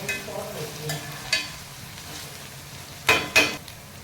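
Curry leaves fry in a hot pan during home cooking, a low steady sizzle with a few sharp crackling pops and spits near the end, no voices over it.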